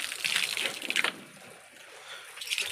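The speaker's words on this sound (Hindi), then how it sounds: "तो भाई पानी शानी इनको लगा रहे हैं" Water poured onto a potted aloe vera plant during hot summer weather, a close splashing, gushing flow that runs strongly for about a second before tapering to a softer trickle and swelling again at the end.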